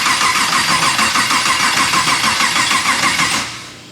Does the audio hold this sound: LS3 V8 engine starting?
yes